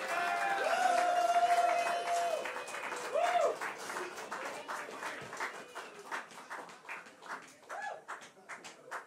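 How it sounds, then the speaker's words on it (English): Crowd applause and cheering at a live metal concert in a small venue, a dense wash of clapping with scattered whoops, lingering feedback tones early on and a voice briefly heard over it. "Give yourselves a round of applause."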